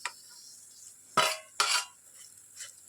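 Ivy gourd stir-fry being mixed in a pan, giving two sharp scraping clatters of a spoon against the pan followed by a fainter clink, with quiet background between.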